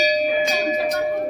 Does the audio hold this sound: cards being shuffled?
no